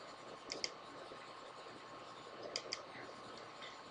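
Equation being typed into a graphing calculator, two pairs of quiet button clicks, one early and one late, over soft background hiss.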